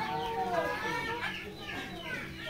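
Layer hens at a hatchery farm with egg incubators cluck and call softly in the background, a faint, continuous flock chatter with voices mixed in.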